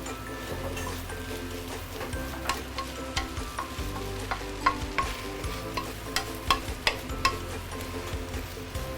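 Singapore-style beehoon rice noodles stir-fried in a pan, a constant sizzle with repeated sharp clinks and scrapes of a utensil against the pan, close and moderately quiet.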